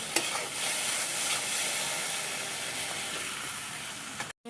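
Spice paste with turmeric frying in a pan for a Bengali pabda fish curry, a continuous moderate sizzle with stirring scrapes, ending in a brief cutoff, no talking.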